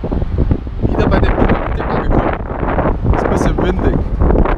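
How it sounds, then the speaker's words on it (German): Strong outdoor wind buffets the microphone in a loud, continuous roar that barely lets up, with a voice faintly audible beneath the rumble. "Es passt nie, wenn der Wind da ist."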